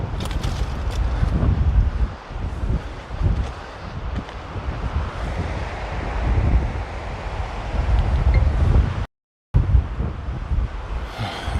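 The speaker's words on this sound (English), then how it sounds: "Wind is enough to really set me off balance when I'm just standing. It's pretty intense." Strong gusting wind roars outdoors among boulders, buffeting the microphone with a loud, continuous rumble that briefly drops out before resuming.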